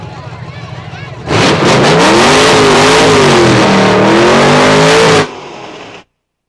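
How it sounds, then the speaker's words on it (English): A 1984 Chevy drag car with a 355 motor revs hard at a drag strip, a loud sustained roar with rising and falling pitch lasting about four seconds, preceded and followed by a lower idle rumble. "This is Fred Cheney in his 1984 Chevy with a 355 motor, nicknamed Bad Attitude."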